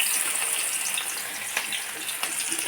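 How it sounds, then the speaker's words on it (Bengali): Chopped onion and garlic hitting hot oil in a pan, a steady bright hiss of frying with a few faint pops and scrapes, close and continuous. "এখানে আমি পেঁয়াজ আর রসুন কুচি দিয়ে দেবো।"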